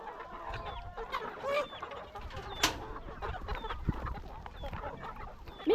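Chickens cluck and call on a poultry farm, a steady busy flock with scattered sharper squawks and a brief rooster-like cry, fairly close, with faint talk now and then in the background.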